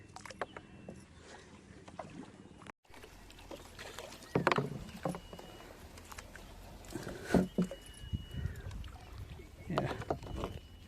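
A small fishing boat is moved through the water at night, giving soft creaks and irregular splashes and knocks from close by, with quiet voices now and then.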